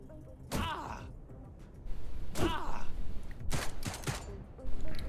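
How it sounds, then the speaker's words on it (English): Gunfire in the video game Encased comes in several sharp, loud bursts spaced a second or two apart, each with a short echoing tail over a low game background. "Like, oh, a gunshot, oh, a gunshot."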